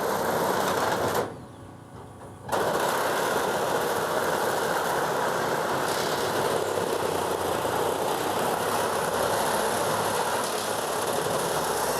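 A reciprocating saw cuts into the wall of a semi truck sleeper cab, a loud, steady mechanical buzz that drops out briefly near the start and then runs on without a break.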